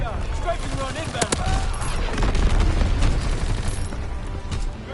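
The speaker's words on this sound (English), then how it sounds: "Strafing run inbound." Machine gun fire bursts and booms from an aircraft strafing run in a World War II video game, dense and continuous over rumbling battle noise, with faint voices mixed in.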